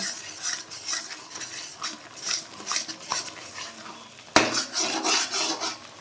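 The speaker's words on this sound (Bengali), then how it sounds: "এর মধ্যে একটু হালকা করে জল দিয়ে এটাকে আবার নাড়তে থাকবো" Poppy seed paste being stirred with a little water in a kadai for a spicy posto pabda fish curry: steady scraping and clinking of a spoon against the metal pan, close and moderately loud, with one sharp knock midway.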